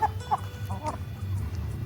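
Laying hens cluck softly in a short burst of several low, irregular clucks at close range over a faint background hum.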